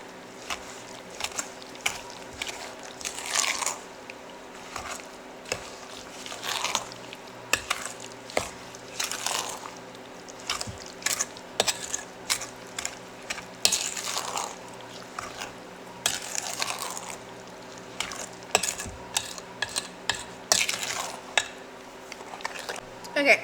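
Peach almond freezer jam stirred in a bowl, a steady run of scraping, clinking utensil strokes against the container, fairly close, repeating irregularly over a low background hum.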